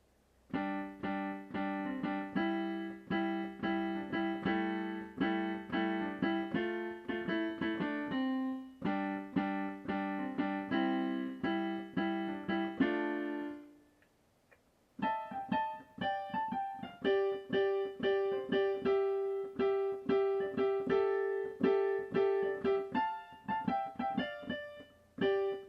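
Solo piano plays the right-hand melody of a song from La La Land, close and clear, with a short pause midway before the tune resumes, and no talking.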